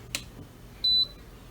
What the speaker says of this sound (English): then you hear the beep to make sure everything is all working